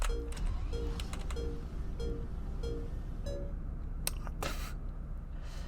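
A car starts up on a wagon in the Roblox game Greenville: a series of evenly repeated electronic chime tones is followed by a short ignition burst. A steady loud game hum runs underneath, and no one talks.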